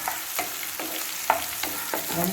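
Tomatoes sautéing in a pan for sankara fish curry: an even close sizzle with repeated spatula scrapes about every third of a second. No talking.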